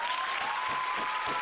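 Audience applause at a season one finale, a steady dense wash of clapping that fills the whole short stretch at moderate level, with a faint tone running beneath it.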